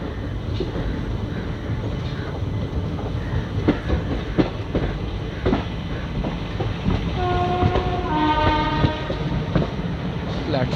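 An Amravati Express train arrives at the last platform of Pune Junction with continuous rumbling wheels and clatter, a horn sounding near the end, loud and close.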